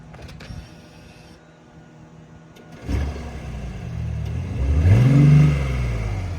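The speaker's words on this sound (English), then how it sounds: "That's the stock exhaust" A BMW i8 on its stock exhaust starts up and revs, quiet at first, then a rising whir that swells to a moderate, smooth rev and settles back, heard close with no talk.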